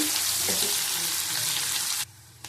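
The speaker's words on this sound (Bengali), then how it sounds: "ক্যাপসিকাম দিয়ে দিলাম আধখানা আবার ভালো করে ভেজে নেব" Half a capsicum fries in a pan for aloo dum, a loud, bright hissing sizzle that stops abruptly after about two seconds.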